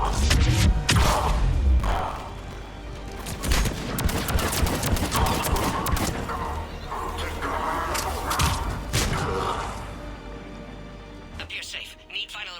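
Gunfire in the video game Mass Effect 3 at Sur'kesh: loud, rapid bursts of weapon fire and heavy impacts crowd the scene, mixed with voices talking over the combat, fading toward the end.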